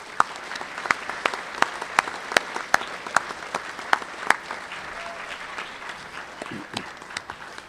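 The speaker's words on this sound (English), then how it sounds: "How about one nice round of applause for everybody?" Audience applause at a Veterans Day ceremony, a room of people clapping steadily for several seconds, with sharp individual claps standing out near the front over the dense, even patter of the crowd.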